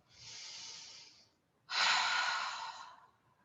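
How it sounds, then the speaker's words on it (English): Two soft breaths close to the microphone, a gentle airy intake followed by a longer, stronger exhale pushed out through the mouth during a guided relaxation, with no talking. "Take a nice inhale here and exhale it out your mouth."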